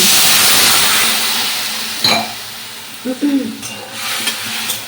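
Young hog plums simmering in a mustard sauce in a pot, a steady close hiss and bubble with a sharp clink at about two seconds and brief soft utensil knocks near the end.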